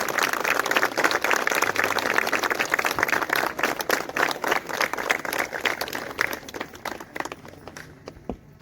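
Uniformed soldiers at an Indian Army Garhwal Rifles passing-out parade give sustained loud applause, a dense broad wash of many hands clapping that fades and thins toward the end.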